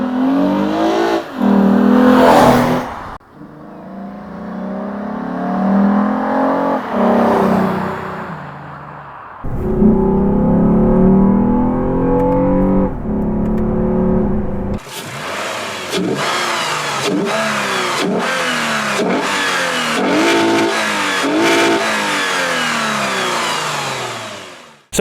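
Lexus GS350 F Sport fitted with a Takata intake, its engine starting, then revving repeatedly in loud rising and falling bursts between steadier idling stretches, heard close and with no talking.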